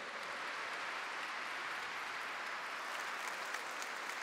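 A church congregation applauds during a Catholic homily, steady dense clapping heard from a distance at low level, continuing evenly for several seconds.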